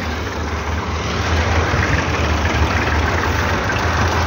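Tractor engine, model 260, idling on a farm while soil is being loaded into a trolley: a steady, loud diesel rumble with a knocking texture that swells slightly after the first second, with no voices.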